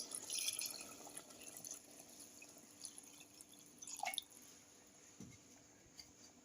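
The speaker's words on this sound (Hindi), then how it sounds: "इसलिए मैं इसमें पानी डाल रही हूँ" Water poured from a glass into a cooking pot of mutton paya, Lahori-style goat trotters, giving faint splashing and dripping close by in a quiet kitchen.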